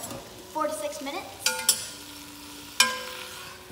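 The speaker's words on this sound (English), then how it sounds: "We're going to be stirring occasionally until it gets nice and brown" Ground meat with taco seasoning sizzling in a pan while a utensil stirs and scrapes it, with a few sharp clanks against the pan, close and fairly quiet, no voices.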